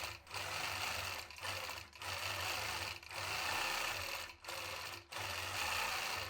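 A sewing machine stitches feathers across a basket quilt in steady, loud runs of rapid mechanical whirring, broken by several brief pauses as the quilting moves along.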